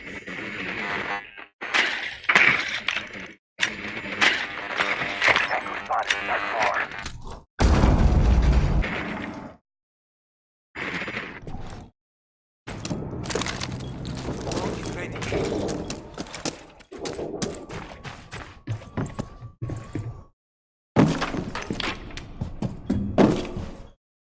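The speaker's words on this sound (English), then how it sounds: "We do hear the gunshots" Bursts of gunfire and booming explosions from the video game Rainbow Six Siege in a collegiate esports match, coming in irregular clusters with brief silent gaps between them.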